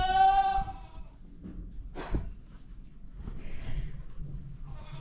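A nearby goat lets out a loud, wavering bleat, followed by quieter shuffling, a snort and fainter farmyard bleats further off.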